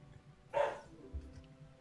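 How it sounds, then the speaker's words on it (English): A single short bark from a dog outside a window, fairly faint and distant, followed by a softer second yelp. "it sounds like a dog actually outside the window"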